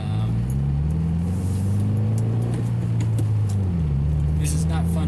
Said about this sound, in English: This is not fun driving in traffic.